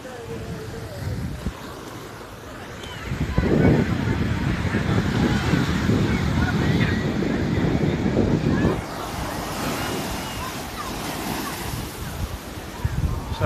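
Sea waves surge and wash ashore in a broad rushing swell that builds midway and then eases, mixed with wind buffeting the microphone and a voice speaking over it.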